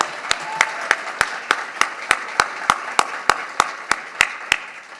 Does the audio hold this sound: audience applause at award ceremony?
yes